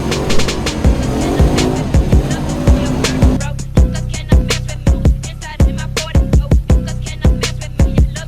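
A car drives off for a winter drift on an ice track, its engine buzzing and surging with rapid repeated bursts and sharp transient clicks, loud and near, with brief voices in the background.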